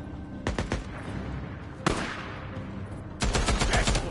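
Gunfire in the video game Days Gone: bursts of rapid automatic fire, a short volley, a single sharp shot and then a longer sustained burst, loud and close, no talking.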